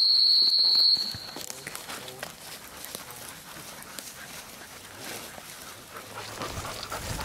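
A hunting dog walks and pants close by at a muddy field hunt, with steady footsteps and soft breathing throughout after a brief sharp high tone at the start.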